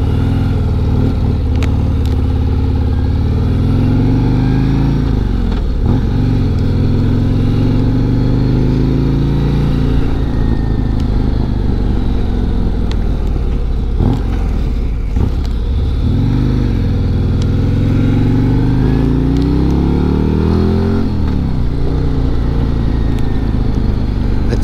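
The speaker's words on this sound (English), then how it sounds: "At these speeds, without so much wind, you should be able to hear that exhaust" A heavyweight touring motorcycle's engine and exhaust drone steadily up close in road mode, rising and falling in pitch as the throttle opens and shifts, with no talking.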